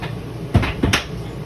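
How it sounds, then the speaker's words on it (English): A three-piece glass shower door in a 2022 Keystone Hideout 28RKS travel trailer slides and knocks twice in quick succession, close and fairly loud over a steady room hum. "So that's a 3-piece glass door."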